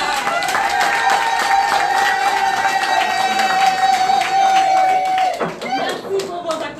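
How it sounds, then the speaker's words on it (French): Crowd at a political evening gathering claps and cheers at full volume, with a steady held tone running through the noise before the applause thins and drops off near the end. "Merci pour vos acclamations et pour vos applaudissements."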